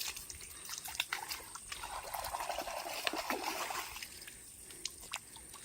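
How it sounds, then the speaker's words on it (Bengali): Water trickles and splashes gently while a crab is being washed by hand outdoors in a mangrove forest, a steady soft dribble with a few brief splashes, close by and without talk. "তো কাঁকড়াটা একটু ভালোভাবে ধুয়ে দেখাই।"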